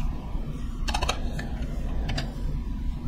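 A few quick computer keyboard key presses in two brief clusters, close and moderately quiet over a low steady room hum, with no speech.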